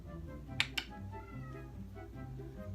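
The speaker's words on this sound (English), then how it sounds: "Here comes my cat." Two short, high cat meows in quick succession over low background rumble and faint household noise.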